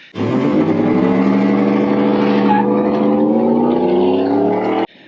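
Supercharged 2021 Ford F150 pickup with a 775 hp Whipple setup launching hard, a loud close engine roar that climbs steadily in pitch through the acceleration, then cuts off abruptly.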